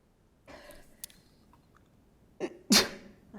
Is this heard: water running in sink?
no